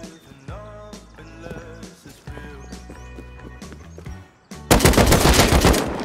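AK rifle fire in the survival game Rust, preceded by scattered footsteps and ambient game sounds, then a loud sustained automatic burst over the last second and a half.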